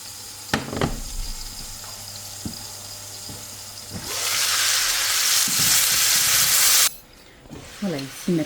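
Butter sizzling and melting in a 23 cm cake pan, with a loud hissing burst through the middle, scattered clinks and stirring knocks before it, and the hiss suddenly cutting off near the end.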